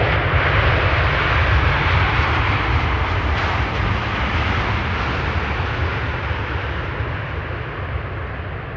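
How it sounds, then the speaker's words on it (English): A KLM Boeing 777-300 arriving at Amsterdam Schiphol Airport roars loudly and steadily overhead, a broad continuous jet rumble that slowly eases toward the end. "this is KLM flight 744, a 777-300 arriving from Lima"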